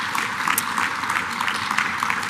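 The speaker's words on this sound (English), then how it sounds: "Round of applause," An audience at an African trade forum applauds with steady, dense, moderately loud clapping that fills the hall evenly with no break, and no voices stand out.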